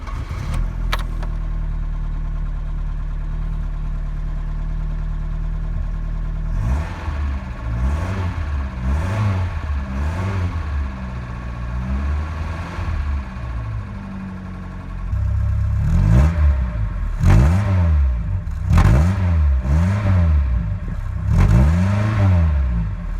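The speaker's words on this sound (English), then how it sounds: "And who could forget the iconic rasp of the Pinto engine?" A Ford Pinto engine in a Ford Capri Mk2 idles with a steady low drone, then revs repeatedly in rising and falling bursts, growing louder and raspier in the second half.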